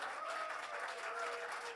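Audience applause at an Irish music event, a steady wash of many hands clapping from a crowd, fairly faint and continuous throughout.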